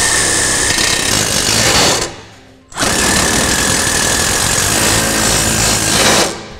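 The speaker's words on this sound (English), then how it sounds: "Now I'm gonna go ahead and run my fasteners in." A power tool drives fasteners into a trailer connector bracket on a 2007 Chevrolet Silverado: two loud, close bursts of rapid hammering, whirring impact, split by a short pause.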